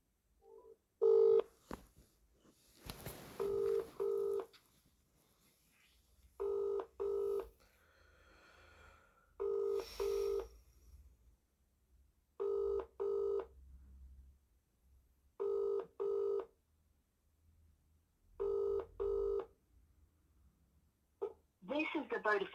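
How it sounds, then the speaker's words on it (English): Touch-tone keypad beeps from calling a mobile number, short paired tone bursts repeating in steady groups roughly every two to three seconds, close and clean, with faint background noise and brief handling sounds between them. "Ring up Christopher Browell, brother's social worker"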